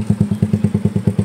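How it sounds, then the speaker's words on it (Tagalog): Bajaj Rapid X motorcycle fitted with an aftermarket exhaust pipe, sending out a fast, steady train of loud, close thumping exhaust pulses from the pipe, about eight or nine per second, with no voices. "Yun na yun ang backfire natin mga paps."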